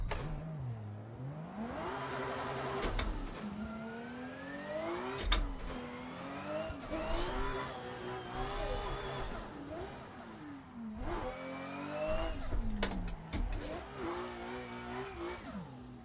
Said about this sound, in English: Car sounds sick.